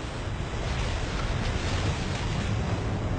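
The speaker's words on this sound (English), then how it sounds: "The ship is crashing through 6-meter waves." Heavy surf and rough North Atlantic seas pound against the hull of the Queen Mary II ocean liner as it crashes through six-meter waves, a steady loud roar of water and wind with no pauses.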